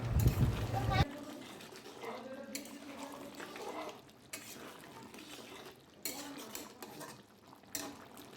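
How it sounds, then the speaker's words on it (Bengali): A spoon stirs jackfruit and chicken curry after garam masala goes in, scraping and clinking against the pot in short bursts with a louder start, while a voice talks over the cooking. "এবার গরম মশলাটা দিয়ে একটু নাড়াচাড়া করে নামিয়ে নেব।"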